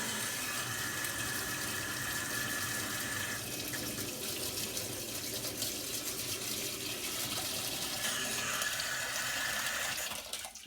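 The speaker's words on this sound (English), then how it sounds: "So I'm going to fill this up with cold water until it's almost to the top," Cold tap water running into a tumbler for wet brass tumbling, a steady close rushing stream that shifts tone partway through and eases off at the very end, with no voices.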